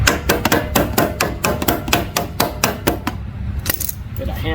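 A hammer strikes the worn tire of a Craftsman 5600 generator during removal, a steady series of sharp metallic blows in quick rhythm, close and loud, thinning out toward the end.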